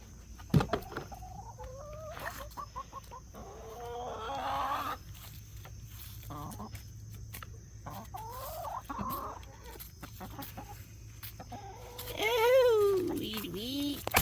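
Backyard chickens cluck and call in short bursts and rising squawks, close and fairly loud, while a person talks to them intermittently.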